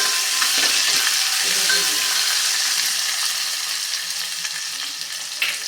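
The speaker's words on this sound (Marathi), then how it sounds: "तर हे छानपैकी कांदा थोडासा आपण परतवून घेऊया" Finely chopped onion with curry leaves sautéed in a hot pan for drumstick amti, a loud, dense sizzle that holds steady and eases slightly toward the end, with a few stirring scrapes and no voices.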